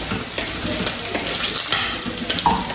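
Chicken gizzards frying in a little cooking oil, a close, continuous crackling sizzle with bursts of stirring and scraping.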